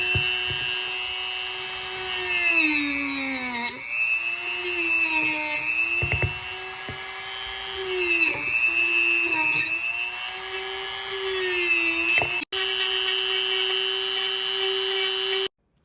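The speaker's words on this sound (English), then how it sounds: "Okay, now it's time to Dremel his neck." Dremel rotary tool cutting through the neck of a baby doll figure, a high whining grind that dips and rises in pitch as it bites into the material, running nearly continuously and close, then stopping abruptly.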